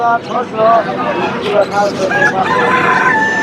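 Roosters crow repeatedly up close amid clucking hens at a weekly poultry market, a crowded, noisy background with people chattering.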